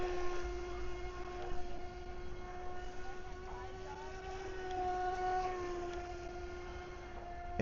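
A DEERC RC speedboat runs on water, its electric motor giving a continuous high, buzzing whine with layered tones, steady and moderately close, with no voices over it.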